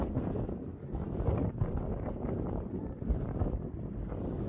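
Strong wet wind sweeps along the coast near Aberystwyth, a continuous roaring rush buffeting the microphone in uneven gusts, with no voices.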